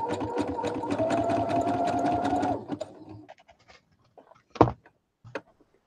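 A sewing machine runs steadily, stitching zigzag around the edge of a patchwork pillow for about two and a half seconds, then stops, leaving a few soft handling clicks and thumps.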